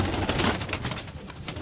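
Flyer pigeon pairs coo softly and steadily inside a loft, a close, continuous murmur with no talk over it.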